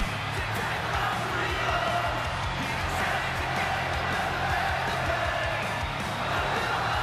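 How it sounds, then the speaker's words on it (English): A dense arena crowd in the video game WWE 2K25 roars and cheers continuously at a wrestling event in Lyon, France, a loud, sustained wash of voices with a low rhythmic pulse underneath. "This crowd is electric."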